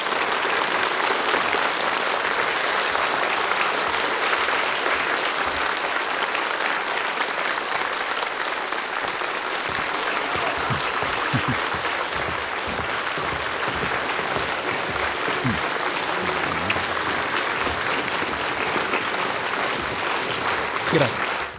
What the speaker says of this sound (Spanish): Los aplausos son tuyos.